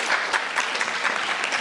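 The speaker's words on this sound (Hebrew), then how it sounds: "מחיאות כפיים לאביגיל." Audience applause at a playback theatre performance, a steady dense clapping that holds at an even level throughout without talk.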